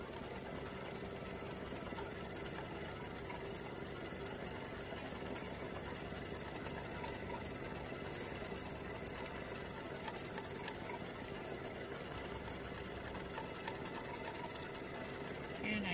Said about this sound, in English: this is going to stitch the stitching at the bottom of the glove